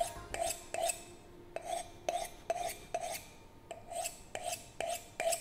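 Steel knife blade drawn repeatedly across the unglazed bottom ring of a ceramic coffee cup, a close, crisp rasping scrape in about a dozen evenly spaced strokes with short pauses between them.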